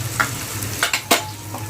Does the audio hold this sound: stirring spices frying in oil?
yes